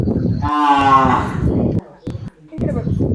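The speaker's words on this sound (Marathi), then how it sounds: "आणि सुंदर गाई" A desi cow at a temple gaushala lets out one long, loud moo, deep and drawn out, while people talk nearby before and after it.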